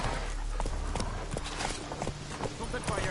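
Horse hooves clip-clopping in The Witcher 3 on PS5, a quick run of steady hoofbeats up close over a continuous game background, with a voice speaking briefly.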